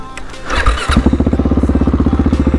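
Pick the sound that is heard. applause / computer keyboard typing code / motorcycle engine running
motorcycle engine running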